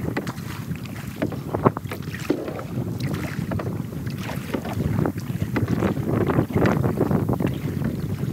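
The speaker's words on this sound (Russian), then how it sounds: "Гребем с Натали против ветра." A kayak is paddled against the wind on a shallow estuary, with a steady wind buffeting the microphone and irregular splashes and strokes, no talking.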